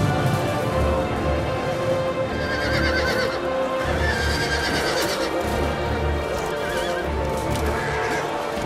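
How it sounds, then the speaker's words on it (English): Cavalry horses charging in a large video game battle, a dense, loud mass of galloping hooves with repeated neighs and whinnies rising above the rumble, with no talk. "Gil-galad and his mounted men charge head-on."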